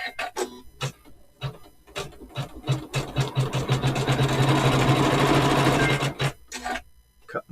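An embroidery machine quilts a quilt with a rapid, rhythmic needle chatter, starting in short bursts, then running steadily for several seconds before slowing back to stop-start pulses, close and clear.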